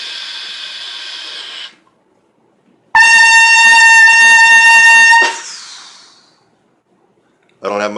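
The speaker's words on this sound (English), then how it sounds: "Still, a significant loud round high C." A trumpet sounds a loud, round high C, beginning with a short buzzy tone, then a bright sustained note of about two seconds that decays away, and a fresh note starting at the very end.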